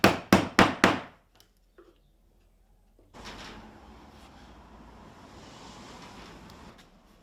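Hand chisel tapped against the ends of a wooden bed frame being made, four sharp evenly spaced knocks close up at the start, then a few faint taps and a steady low rustling background.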